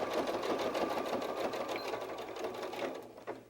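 A sewing machine runs steadily across a seam on a fabric bear softie, its rapid needle whirr continuous and close with no talking.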